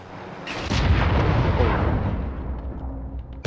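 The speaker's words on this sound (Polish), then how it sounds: "Ale chyba tam jakiś wybuch był" A loud, booming video game explosion rumbles and rolls for several seconds, dense and low, followed by a sharp crack at the end, with no talking.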